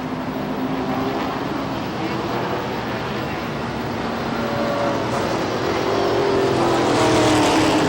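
Pro stock race cars circling the Lee USA Speedway oval during a 100-lap feature, a continuous roar of engines that swells slightly toward the end, heard from the grandstand distance with a track announcer talking over it.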